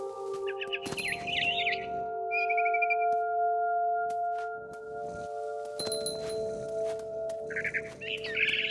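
Birds chirp in the video game What Remains of Edith Finch, short bright tweets in scattered bursts over a steady tonal music bed, fairly quiet and with no speech.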